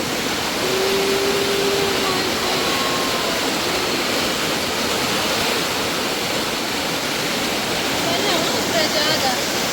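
Floodwater after days of heavy rain in the Himachal Pradesh mountains roars as a steady, loud, broadband rush that holds unbroken for the whole stretch, close by and dense.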